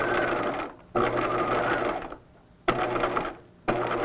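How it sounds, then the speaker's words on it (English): A sewing machine stitches dress fabric out to the raw edge in three close, steady runs of rapid whirring, each broken by a short pause before it starts again. "I'm sewing all the way to the raw edge over here"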